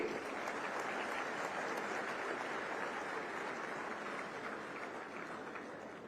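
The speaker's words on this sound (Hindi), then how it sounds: "जोरदार तालियों से उनका अभिनंदन करिए" An audience at a university convocation ceremony in Raipur applauds to welcome the state governor, a steady wash of dense clapping that slowly fades over several seconds.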